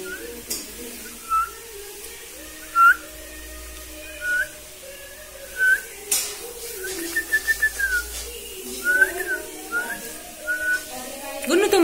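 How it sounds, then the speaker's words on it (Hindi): A pet parrot gives short, bright whistles at intervals, then a quicker run of chirpy whistles, close to the microphone, with a person talking softly in between. "गुन्नू तुम बजाओ सीटी"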